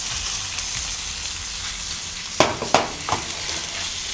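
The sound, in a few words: mixing cooked meat with poblano and shallots in a pan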